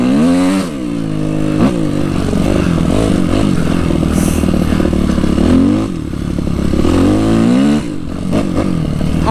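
Suzuki RM-Z 250 four-stroke motocross bike ridden hard on a track, its engine loud and close with repeated revving surges and gear changes, rising and dropping pitch throughout, no voices.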